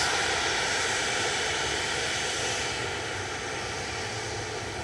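Boeing 737-800 operated by Malta Air at Manchester Airport, a steady broadband jet engine roar that holds loud and even throughout, easing slightly toward the end, with no voices.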